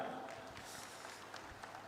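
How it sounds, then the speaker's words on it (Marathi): Crowd applause at a public thanksgiving rally for Deputy Chief Minister Eknath Shinde in Nanded, a steady wash of clapping that lasts throughout, with voices mixed in. "जोरदार टाळ्या प्लीज, जोरदार टाळ्या."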